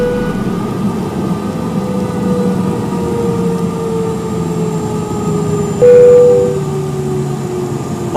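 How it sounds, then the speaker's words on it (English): Jet airliner engine shutting down at the terminal, heard from inside the cabin as a loud steady drone whose whine slowly falls in pitch over eight seconds, with a brief tone near the end. "The engine is being shut off."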